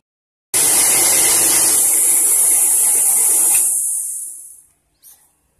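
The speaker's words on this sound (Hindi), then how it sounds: "हमने ये मूंग की धुली हुई दाल मिक्सी के जार में डालकर पीस ली है।" A mixer grinder whirs loudly as it grinds washed moong dal with asafoetida and two green chillies, no water added, running steadily for about three seconds, then winding down and stopping, followed by a brief faint clatter.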